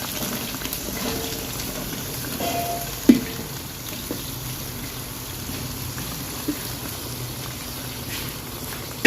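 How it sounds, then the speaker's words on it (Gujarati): Chopped bottle gourd frying in oil in a home kitchen pan alongside ginger, chilies and garlic, a steady close sizzle and hiss with a couple of faint clicks, no talking. "દૂધી થોડીક વાર આપણે તેલમાં શેકી લઈ"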